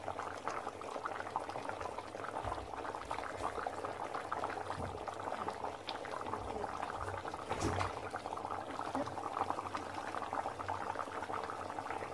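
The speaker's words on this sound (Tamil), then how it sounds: "சூப்பராக மீன் குழம்பு நல்லா வெந்து வந்துருச்சுங்க" A pot of fish curry simmers steadily, a continuous soft bubbling and hiss that runs throughout at a moderate, even level.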